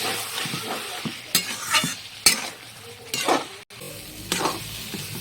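Tomatoes stir-fried with a splash of water in a pan for a fish curry, with a soft sizzle under several sharp scrapes and clanks of a spatula against the metal, and no speech.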